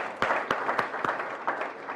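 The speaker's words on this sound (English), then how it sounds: "I think let's clap for him." Symposium audience applauding to honor a speaker, a dense patter of many hands clapping with irregular louder claps, steady and fairly close for the full length.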